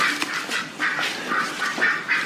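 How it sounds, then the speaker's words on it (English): Geese honking inside a hall, a rapid series of about eight nasal squawking calls over two seconds, close and fairly loud with no speech. "Why, the bloody geese in the hall, Maureen."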